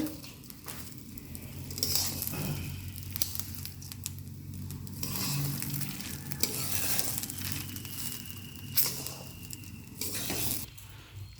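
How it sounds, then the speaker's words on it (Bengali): Rice fries in a pan with cashews and garam masala for pulao, a steady close sizzle broken by repeated scraping, rustling bursts of stirring and an occasional clink of the utensil. "এখন চালটা কষানো হচ্ছে"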